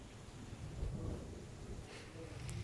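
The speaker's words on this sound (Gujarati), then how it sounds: "ગ્રામ્ય વિસ્તારોમાં ગાજવીજ સાથે વરસાદની એન્ટ્રી થઈ છે।" Thunder rumbles low and steady with rain falling through a storm over rural countryside, a continuous moderate wash with no clear breaks.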